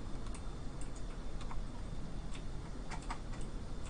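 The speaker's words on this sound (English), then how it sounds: "So an eruption of keyboard noises beside me." Computer keyboard keys clatter in irregular bursts of typing beside a Kerbal Space Program livestream, faint taps over a steady background hum, with no talk.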